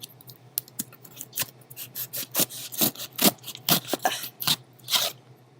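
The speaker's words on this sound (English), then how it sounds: "I know these scissors are sharp." Sharp scissors cutting open a cardboard box, a fast irregular run of snipping and scraping strokes, close and fairly loud, with no voices.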